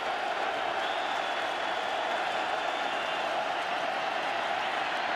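A football stadium crowd at a Colts home game roars on a third down, a loud, sustained, unbroken wall of cheering and noise that holds steady throughout without letup.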